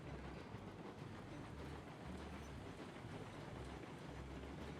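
Train running in the railway game Railroads Online, a steady dense rumble of wheels and rolling cars with a low rhythmic chug, continuous and fairly faint, with no talking.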